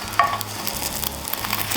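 A Korean rolled omelette fries in a pan over gentle heat, giving a steady, close sizzle with a soft scrape of stirring or turning and no talking.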